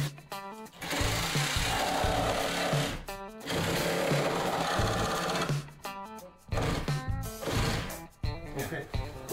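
A power saw cuts through nailed timber during a DIY job building a house entrance's floor foundation, in several loud buzzing bursts separated by short pauses, with a voice talking in between.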